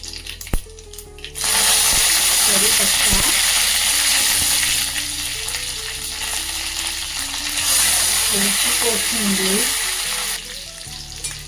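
Mustard seeds and cumin sizzle loudly in hot oil over a low gas flame, a dense steady crackle with brief popping surges and no voices.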